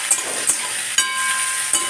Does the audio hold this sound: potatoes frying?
yes